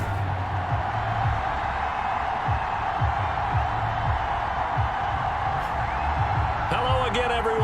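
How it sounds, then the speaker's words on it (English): A sellout stadium crowd in Madden NFL 21 keeps up a steady, dense roar through the whole stretch, with faint thuds and a brief whistle-like tone near the end. "Somehow this place got even louder a short time ago as the Falcons were introduced to this sellout crowd"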